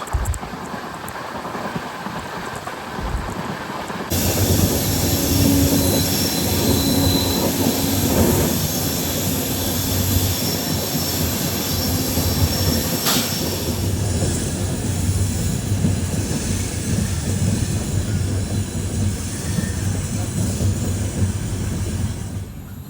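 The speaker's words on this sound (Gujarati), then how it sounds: "અમૃતસરથી ચાલીને બાંદ્રા ટર્મિનસ સુધી જતી પશ્ચિમ સુપરફાસ્ટ એક્સપ્રેસ" Paschim Superfast Express 12926, bound from Amritsar to Bandra Terminus, rushes past loud and close, its sustained roaring rumble swelling in suddenly and holding steady with metallic wheel noise and wind buffeting.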